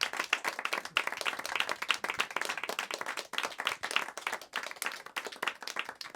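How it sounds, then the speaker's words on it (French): A theatre audience at L'Esprit Frappeur claps for the venue's host and team. The clapping is dense and steady, with sharp, close hand claps standing out over the crowd for the whole stretch, and no talk. "Je crois qu'on peut les applaudir."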